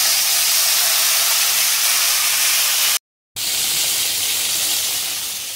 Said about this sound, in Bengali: গরম মশলা, দালচিনি, লবঙ্গ আর এলাচ দিয়ে দিলাম, দিয়ে একটু জল দিয়ে দেবো।